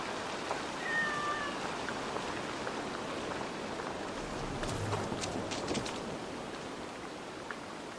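A cat meows in Assassin's Creed Valhalla, a short high call heard near the start over a steady bed of rain-like game ambience, with faint clopping and rustles later.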